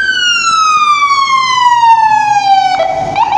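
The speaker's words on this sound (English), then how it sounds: "Oh, it's an ambulance." A loud, close ambulance siren wailing in one long descending sweep, then a brief shift in tone at the end.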